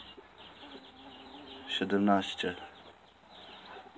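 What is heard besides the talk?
hens clucking in a backyard flock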